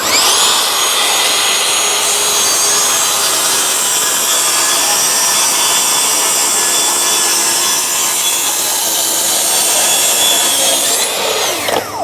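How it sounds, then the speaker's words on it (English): A Festool battery-powered track saw cuts wood along a guide rail, a loud, steady, high whining rip that lasts the whole time without a break and winds down at the end. "now you can set the saw onto the guide rail and we can make the straight cut"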